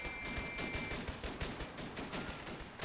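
Dense rifle fire crackles across a World War One video game battlefield, rapid overlapping shots and bursts in a continuous fusillade, loud and sustained with no talk.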